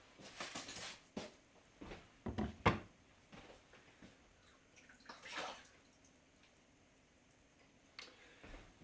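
Water splashes and runs in bursts while a Glacious ice ball maker is rinsed off, with a few loud clattering handling knocks and quieter gaps between.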